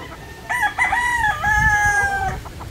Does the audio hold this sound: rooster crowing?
yes